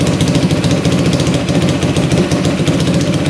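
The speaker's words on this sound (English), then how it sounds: "She's idling now." A $1000 dirt bike, freshly serviced after a valve adjustment, idles loudly and steadily up close, its single engine thumping in a fast, even rhythm with a rattly mechanical edge throughout and no voices.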